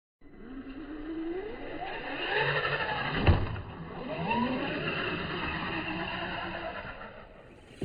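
A Traxxas Slash 4x4 VXL RC car with aluminum A-arms drives over mixed terrain, its electric motor whining steadily with rising and falling pitch sweeps, one sharp loud bump midway.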